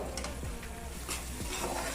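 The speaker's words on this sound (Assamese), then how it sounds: "প্ৰায় 10 মিনিটমান এনেদৰে লৰাই লৰাই ভাজি ল'ব লাগিব।" Potatoes coated in mustard paste fry in a pan, a steady close sizzle running throughout while a utensil scrapes and stirs them in several strokes.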